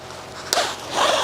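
A zipper on an adult wearable sleeping bag is fed through and pulled, making a brief, close, sharp rasp followed by a longer scraping zip, with no voices.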